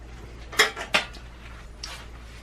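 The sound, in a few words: stirring chocolate zucchini bread batter in a bowl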